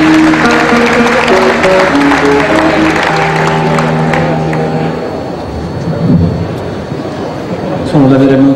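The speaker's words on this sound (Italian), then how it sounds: "Isaac Pietrasanta, anche te un applauso." Audience applause at a live music show runs steadily throughout, a dense wash of clapping under a held musical tone, with a brief swell near the end; fairly close and loud, no speech over it.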